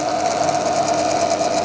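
Bathroom exhaust fan with a timer, about two years old, running with a steady mechanical hum and a whining drone from worn bearings, constant and close with no talk.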